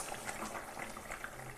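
A rohu fish curry with drumsticks and potatoes bubbling as its gravy reduces in a pan: a soft, steady simmer of small popping bubbles, close and fairly quiet, with no talking.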